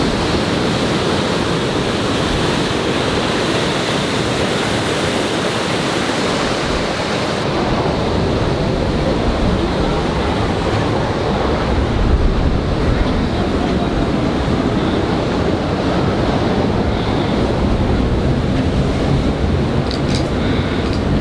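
Sea waves wash against the shore beside the ancient Dwarka temple in Gujarat, a steady broadband roar of surf and wind that fills the whole stretch loudly, with no break and no talk.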